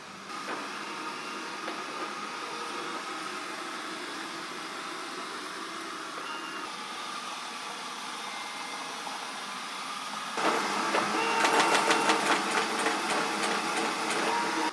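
A Narwal Flow 2 robot vacuum mop, which washes floors with 60°C hot water, runs with a steady whirring hum and motor noise, growing louder and more textured partway through as it works closer.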